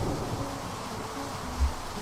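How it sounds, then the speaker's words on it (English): Steady rain drums on a tent roof in a video game, a continuous soft patter with a low rumble near the end. "listening to the rhythm of the raindrops pelting the tent's roof"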